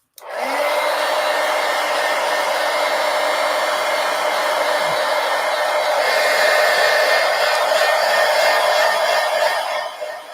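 A hair dryer switches on and blows a loud, steady, close whoosh over glue in an art journal, holding an even roar for about ten seconds before cutting off.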